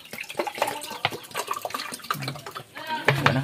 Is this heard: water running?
yes